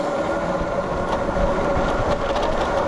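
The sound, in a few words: Ausom DT2 Pro electric scooter at full throttle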